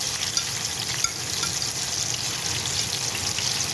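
Red onion with garlic and ginger paste frying in a pan for a chicken tikka curry, giving a steady, close hiss and crackle that runs unbroken throughout with no talk.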